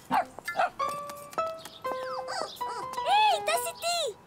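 A cartoon puppy in a children's animated story gives a series of short, high yips and barks, some with whimpering rising-and-falling tones, close and clear with a faint music bed and no talking.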